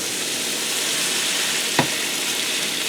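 A burger patty frying on a hot surface after being flipped with a spatula, a steady loud sizzle throughout with one brief thump from the spatula partway through.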